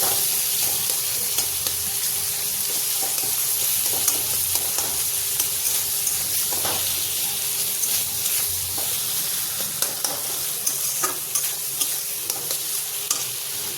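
Boiled elephant foot yam sizzles and fries steadily in a hot pan, a continuous loud crackling hiss broken by scattered scraping stir clicks, with no voices.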